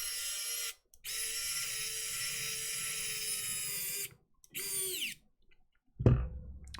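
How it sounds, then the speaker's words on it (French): An electric screwdriver opening a Game Boy Color, whirring in steady high-pitched runs with brief pauses, then a short run that winds down, ending with a close clunk. "Tournevis électrique, ça passe."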